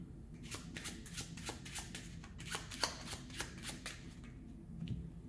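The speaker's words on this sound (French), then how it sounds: "On va mélanger le jeu." Deck of playing cards being shuffled, a quick series of crisp riffling snaps in steady rhythm, close and quiet with no talking.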